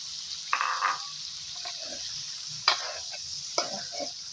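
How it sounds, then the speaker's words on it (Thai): Egg frying in a pan as it is stirred for Thai pork fried rice, a steady sizzle broken by several distinct scraping stirs, close and moderately loud. "คนไข่มันแตกปุ๊บ"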